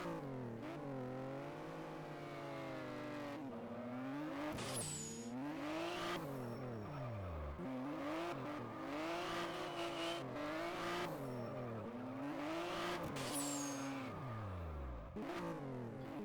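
A drifting race car in the rFactor racing game revs hard and swings its engine pitch up and down through transitions, with tire squeal in bursts across the run. The sound is loud and continuous, with no voice.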